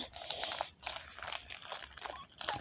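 Taped plastic wrapper of a trading card pack being torn open by hand, a close, continuous crinkling and ripping that runs for a few seconds without pause and with no talking.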